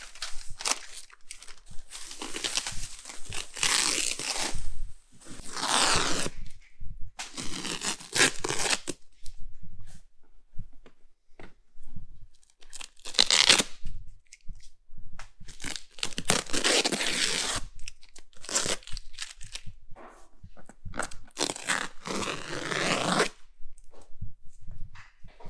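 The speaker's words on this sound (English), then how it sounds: "Now is the moment of truth to start peeling off all of the tape." Masking tape peels off leather car seats dyed with SEM paint in repeated close, crackling rips and crinkles. The bursts come and go over the span, with quieter handling noise between them.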